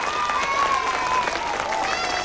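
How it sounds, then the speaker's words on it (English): Studio audience clapping during a 1980 children's puppet show, a dense bed of applause with a sustained tonal musical line running over it. "Let's give him a clap for doing that."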